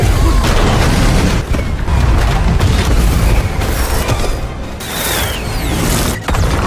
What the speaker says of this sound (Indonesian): langsung dikejutkan dengan serangan kembang api